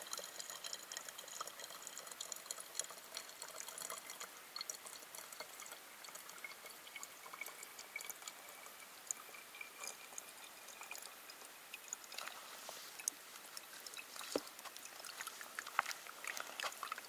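Creek water trickles through a Sawyer Squeeze filter into a 0.7 liter bottle on a wilderness hike, a faint continuous splashing and dribbling with a few small drips, close and quiet against outdoor background.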